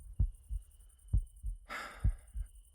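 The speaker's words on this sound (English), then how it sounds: "a heartbeat I could feel in my own bones" A steady heartbeat of paired low thumps repeats at a slow, even rhythm, close and soft, with a brief breathy rustle partway through.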